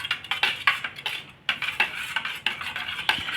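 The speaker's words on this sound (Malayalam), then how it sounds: "ഇത് നല്ലപോലെ ഇളക്കുകയാണ്." A spoon stirs maida into coconut milk in a vessel while making jackfruit halwa, producing quick, rhythmic metallic clinks and scrapes against the sides, near and fairly quiet.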